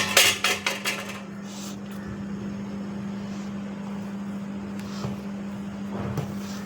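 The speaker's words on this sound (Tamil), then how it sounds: "இப்போ நம்ம அரைச்ச பொடியை போட்டுடலாம். கொஞ்சம் கொஞ்சமாக போட்டு கலந்துடலாம்." Ground spice powder stirred into jackfruit seed rasam in a pot just starting to boil, opening with a quick series of metallic clinks of a spoon against the pot, then a soft steady simmering hiss under a low stove hum.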